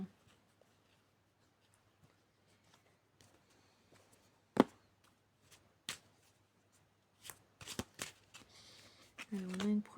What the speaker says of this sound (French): Alors, je vais tirer d'autres cartes.